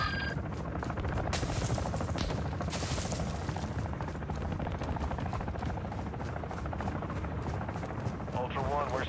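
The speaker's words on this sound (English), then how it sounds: "I think there's someone shooting at me from behind" Gunfire in the video game DMZ crackles through a dense, busy mix, with sharp shots and bursts under continuous talk across the whole stretch.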